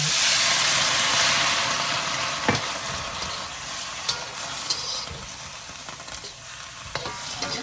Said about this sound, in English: I've been stir frying the veggies